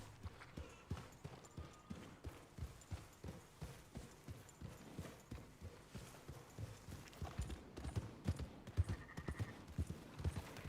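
Hooves of a horse in Red Dead Redemption 2 clip-clop in a steady walking rhythm, with regular paired beats throughout and a few louder, irregular hits near the end, faint and alone without talk.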